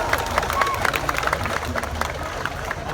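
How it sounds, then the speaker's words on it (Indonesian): A crowd at a NasDem political rally in Lampung applauds. The clapping is mixed with crowd babble and voices, and it stays steady and fairly loud throughout. "Tepuk tangan buat Kakak Elman Saragih."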